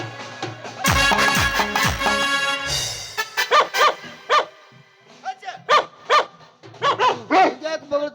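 A male dog barks again and again in a steady rhythm, loud and close, after a burst of voices and other noise at the start.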